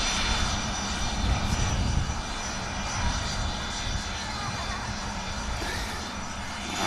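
Airliner arriving from Lanzarote at an airport, a steady broadband engine roar from a fixed-wing jet rolling along after landing, sustained and fairly distant throughout with no break.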